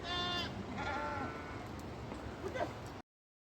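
Sheep in a shepherds' flock on a hillside near Mori, Uttarakhand, bleat over steady outdoor noise, with a few calls rising above a continuous wash of sound.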